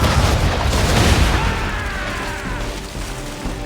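Ship cannons firing during a naval battle in the video game Assassin's Creed III: a heavy rumbling boom that swells and then decays into a long roaring tail, loud and close.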